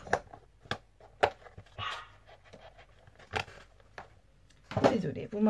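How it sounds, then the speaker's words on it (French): Several dogs bark in short, sharp bursts at a house, spaced irregularly with panting between, fairly near, while someone talks quietly in the background. "vous m'entendez mes chiens aboyer"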